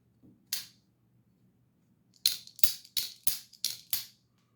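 A Demko Goat knife blade, in titanium and aluminum versions, snaps open and shut with sharp clicking thumps: a lone snap, then five more in an even, quick series, close and distinct.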